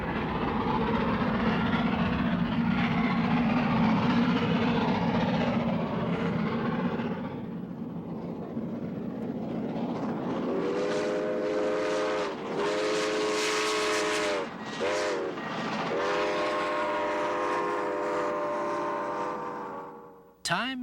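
The Grand Canyon Railway train rumbles steadily along the tracks, with harmonic whining tones from the carriages rising in the second half and a brief clunk at the end.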